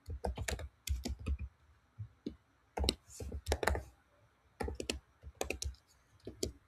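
Keys clatter in quick bursts as a business name is typed on a computer keyboard, close and crisp, with short pauses between flurries.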